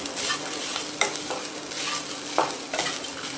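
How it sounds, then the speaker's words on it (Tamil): Grated coconut sautéed in a pan until browned, a continuous close frying sizzle with repeated scraping stirs and occasional sharp clinks of the spatula. "தேங்காய் நல்லா ப்ரௌன் கலரில் வர்ற வரைக்கும் நம்ம அதை வதக்கணும்."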